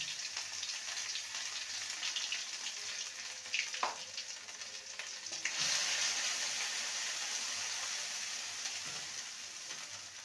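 Ginger and green chili paste hits hot tempered oil and sizzles into a steady frying hiss. A sharp surge partway through is followed by a loud, crackling fry that slowly eases, heard close.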